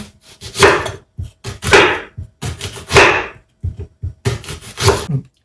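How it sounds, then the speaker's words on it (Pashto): A knife chops an onion on a board in quick bursts of close, sharp thuds, about five clusters of strokes with short pauses between them, loud and alone. "زه یو پیاز میده کوم"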